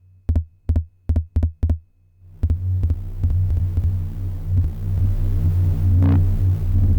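Five dry, punchy kick drum hits sound alone, then the kick repeats processed with noise fed into a second input, becoming a dense, rumbling, throbbing drone with a hissy wash over the steady beats.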